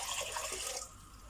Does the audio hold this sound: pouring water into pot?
yes